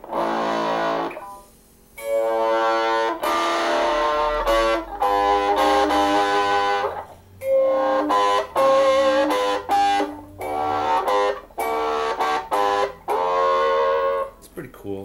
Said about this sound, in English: It's a little bit more dynamic with some distortion.